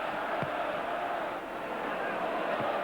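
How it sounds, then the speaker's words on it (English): Football crowd at Ibrox stadium during a Rangers versus CSKA Moscow Champions League match in 1993, a dense, continuous roar of distant voices filling the stands with a steady, unbroken wash of noise. "certainly the Ibrox crowd are making up for it just now with a terrific atmosphere"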